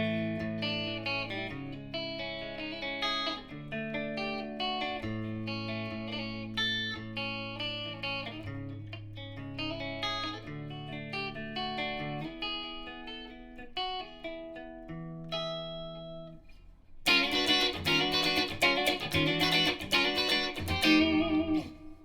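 A Fender Squier Bullet Mustang electric guitar on its middle pickup plays clean, jangly chords and arpeggios with a bright ringing tone, getting louder and fuller near the end; no voices.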